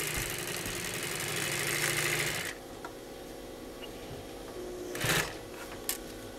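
A Mitsubishi Class 75 walking foot industrial sewing machine runs at speed stitching eight-ply heavy denim, a fast steady mechanical whir that stops abruptly, followed by quieter mechanical clicks and a brief burst of motor noise.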